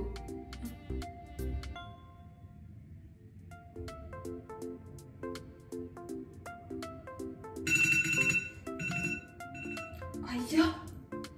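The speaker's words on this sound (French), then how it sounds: "la sonnerie de l'iPhone" An iPhone rings with a repeating bright, tinkling ringtone pattern, heard clearly over a quiet room with a person speaking intermittently alongside it.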